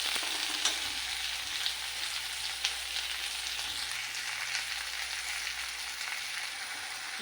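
Tomatoes fry in hot oil with capsicum, a soft, steady sizzle with occasional faint stirring taps, heard close and alone.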